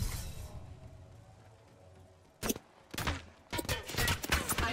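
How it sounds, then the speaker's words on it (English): Gunfire in Apex Legends: after a quieter opening, sharp bursts of shots crack out in rapid clusters, loud and close, filling the second half. "I was getting shot from somewhere."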